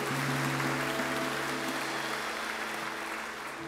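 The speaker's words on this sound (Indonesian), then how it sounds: "Tepuk tangan bagi Allah kita." Church congregation applauding during a worship service, a dense continuous wash of clapping held at an even level before easing slightly, with a faint tonal hum underneath and no talking.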